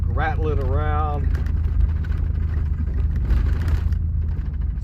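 An old truck rolls slowly over a sandy, muddy two-track, its engine giving a continuous low rumble with a loose rattle, while a voice speaks briefly at the start.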